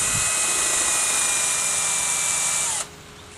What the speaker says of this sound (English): what I did now was I drilled 8 holes all the way up on this side